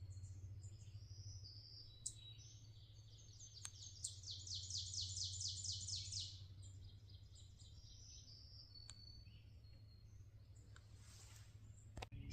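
Small birds chirp and sing in quiet backcountry while backpacking on the High Country Pathway, with a clear rapid trilling phrase in the middle, scattered faint tweets around it and a low steady hum beneath, fairly distant.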